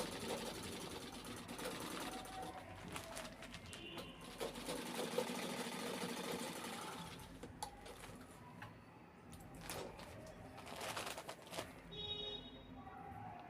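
Sewing machine stitching a fabric saree cover, a steady rapid mechanical whirring and ticking that runs continuously and close, with small shifts in pace and no talking over it.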